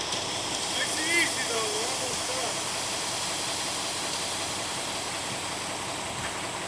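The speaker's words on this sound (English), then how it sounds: "Here we are pouring a little bit more concrete." Wet concrete pours steadily down the chute of a concrete truck for a DIY floor, a continuous rushing, gravelly wash that stays even throughout, with faint voices in the background.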